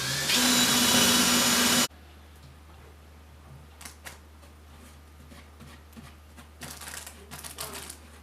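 A 3/16 inch drill bores loudly in one continuous burst of about two seconds during work on a house addition, then cuts off, leaving a quiet room with faint scattered clicks and rustles.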